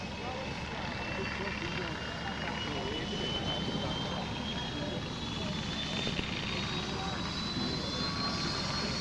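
A propeller aeroplane flies low and slow past an airshow crowd at Wem or RAF Valley, a continuous steady engine drone held throughout, with someone talking over it.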